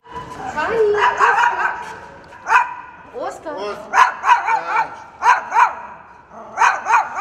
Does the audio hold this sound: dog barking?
yes